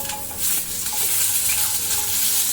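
Onions dropped into a hot pan with cumin and whole peppercorns, giving a steady, close, bright sizzle of frying with faint stirring underneath.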